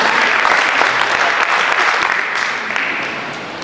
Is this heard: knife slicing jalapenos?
no